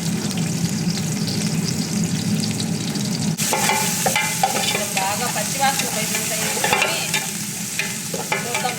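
Onions and green chillies sizzle steadily in a pan while being stirred, with scraping and clinking of the spoon against the pan over a constant close frying hiss.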